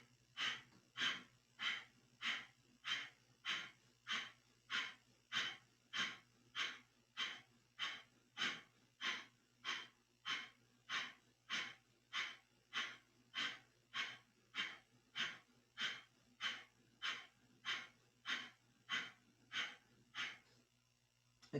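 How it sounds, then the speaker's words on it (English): Breath of fire in Kundalini yoga: about thirty rapid, evenly spaced, forceful nasal breaths in a steady rhythm, close and clear over a faint low hum, with no talking. "we're going to do breath of fire as we hold this for 1 minute"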